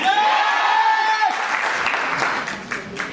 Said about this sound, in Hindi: गुड न्यूज वाली तालियां।